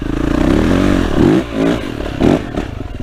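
A Yamaha YZF 450 dirt bike is ridden on a sunny outing in the Vosges. Its loud, close engine revs up and drops off repeatedly, with throttle surges and clattering.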